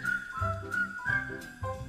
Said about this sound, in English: tune up and start to whistle while you work.